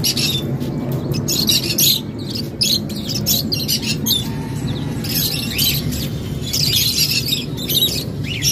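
Many birds chirp and tweet in quick, overlapping bursts close by, over a steady background rumble.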